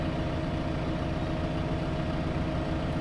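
A tractor engine idles in the Farming Simulator 15 game on an olive orchard farm, giving a steady, unbroken low rumbling hum at an even level throughout with no voices over it.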